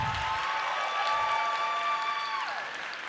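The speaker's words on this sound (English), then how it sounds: "Now let's give these kids one big round of applause." Audience applauding schoolchildren at a school district celebration, a steady wash of clapping with some crowd noise that fades slightly near the end.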